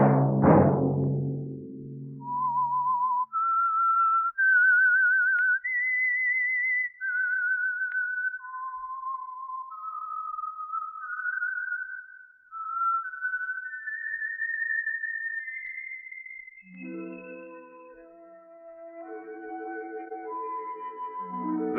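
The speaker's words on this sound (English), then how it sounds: "Let that whistle be your signal for the Signal Oil program" A clear whistled melody rises and falls in a slow, steady tune, alone after a brief low thud, with a fuller musical chord swelling in at the end; the signal theme of a 1947 radio drama.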